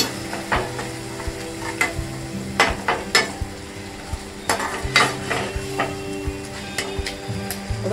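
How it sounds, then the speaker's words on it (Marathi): Homemade biryani masala being stirred and fried in a pan for fish biryani, with repeated close scraping strokes of a spoon over a steady sizzle, no talking. "1 टीस्पून आपण बिर्याणी मसाला टाकला, घरगुती बिर्याणी मसाला आपला टाकलं."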